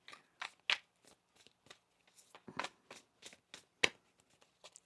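A deck of tarot cards is shuffled by hand in a quiet room, producing a series of soft, irregular riffling and slapping bursts, close and faint, with no talk.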